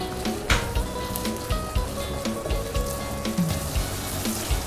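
Coconut milk simmers with red curry paste for a pork panang curry, a steady soft sizzle and bubbling with repeated spoon stirs and scrapes against the pot, close and continuous.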